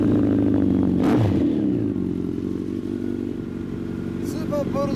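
A 2014 Honda CB1300 Super Bol d'Or with a Maverick aftermarket exhaust idles with a deep, steady rumble, a sharp blip of throttle briefly cutting through, while people talk nearby.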